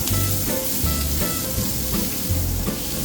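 Onion sizzling in a hot pan while being sautéed, a steady frying hiss broken by repeated stirring scrapes, close and continuous with no talking.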